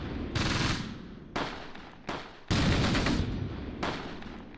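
Gunfire erupts in a Close Combat battle in Normandy, four sharp bursts of machine-gun and rifle fire crackling loudly in quick succession with short gaps between them.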